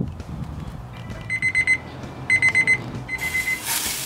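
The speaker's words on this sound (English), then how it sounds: "Chef alarm's going off. It's telling me it's 128 degrees internal." A ChefAlarm cooking thermometer goes off while a herb-crusted rack of lamb cooks on a Big Green Egg grill, sounding repeated bursts of rapid high electronic beeps in quick groups, loud and close, over a low background rumble.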